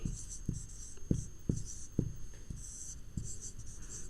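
Chalk or marker writing on a classroom board during a 7th-class maths lesson, with about eight short, sharp strokes tapping out at steady intervals against a faint background hum.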